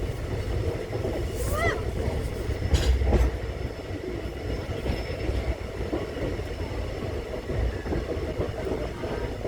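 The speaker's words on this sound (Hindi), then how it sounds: "इस वक्त हमारी ट्रेन ऊंचाहार रेलवे स्टेशन पहुंच गई है।" A vintage train rolls on rusty rails into Unchahar railway station in the Lucknow division, with a steady rumble, clickety-clack of wheels, a brief high wheel squeal and faint background voices.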